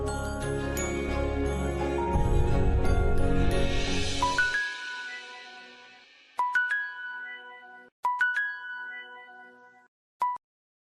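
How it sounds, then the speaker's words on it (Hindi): A melodic phone ringtone plays loudly over background music, which cuts off; then short chiming tone bursts repeat three times with pauses between. "ये रीमा भी ना हमेशा गलत वक्त पे फोन करती है"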